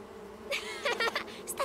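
Cartoon bees buzz in a short series of bright, wavering bursts over a soft background, moderately close and without speech.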